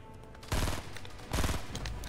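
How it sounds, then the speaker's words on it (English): Sniper gunfire in a Fortnite match: two loud, booming shots about a second apart, each with a brief rolling tail, alone without talk. "I'm getting sniped at."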